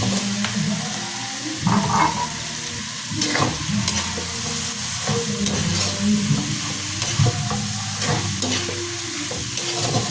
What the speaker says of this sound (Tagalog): Sangkotsa lang muna natin ng ilang minuto